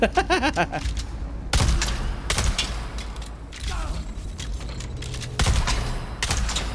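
Gunfire from Dune: Awakening combat: loud bursts and sharp shots at close range, arriving in several clustered volleys with brief lulls between them, mixed with mechanical clatter and sparse game noise.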